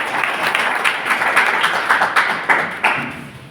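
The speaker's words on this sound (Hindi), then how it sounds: "अपने लिए जोरदार तालियां बजाइए" Audience at a stage programme in Kotma claps loudly in a dense, steady wash, with a few sharper bursts of clapping standing out near the end.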